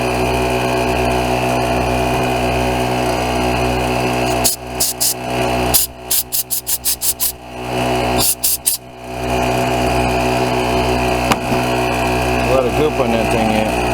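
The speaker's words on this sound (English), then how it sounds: "I'm going to get my generator and my air compressor going so I can clean these out better" A generator and an air compressor running nearby while a rototiller carburetor is cleaned, a loud constant engine drone with a burst of choppy, rapid pulses midway.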